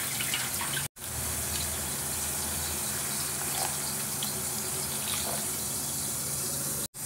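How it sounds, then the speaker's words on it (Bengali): Water pours steadily into a hot pan of rohu fish curry cooked with mustard, a continuous close gushing that runs for several seconds without a break. "এখন আমি জল দিয়ে দেবো।"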